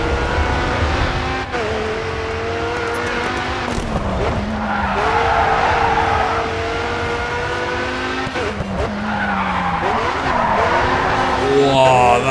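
Engine revving and tires squealing in a long drift in the racing video game Grid 2, a loud, continuous roar with sliding pitch changes and sustained skidding screech throughout.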